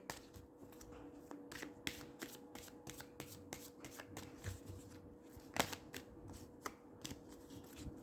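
Cards riffled and shuffled by hand in a quiet room, a steady run of soft rapid flutters broken by sharper snaps as the cards settle, fairly faint and close, with no talking.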